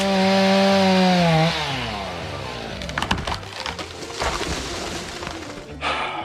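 A chainsaw revs high and steady, then bogs down as it bites into wood being cut up in a garden area, followed by rough, uneven cutting and splintering noise, close and loud.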